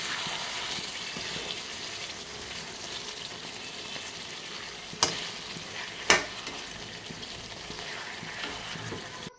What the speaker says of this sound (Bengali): ভালো করে ভাজা হয়ে গেছে আমার কষানো